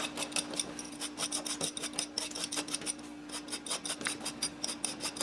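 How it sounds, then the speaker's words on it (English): Potatoes being peeled by hand, a close, quiet series of rapid rasping scrape strokes in quick bursts with brief pauses, over a faint steady background hum. "Just going to peel these potatoes."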